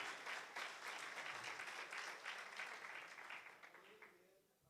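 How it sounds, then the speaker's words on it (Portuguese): A church congregation applauds Jesus during a sermon, many hands clapping in a dense, continuous patter that fades gradually toward the end, with faint speech beneath. "Pode aplaudir a Jesus"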